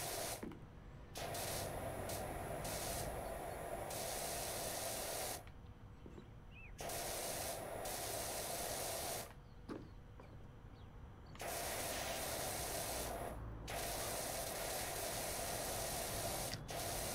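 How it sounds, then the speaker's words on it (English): Pressure washer spraying water in PowerWash Simulator, a steady loud hiss in long bursts separated by short silent gaps, with no voices. "Just getting to sit there just spraying water."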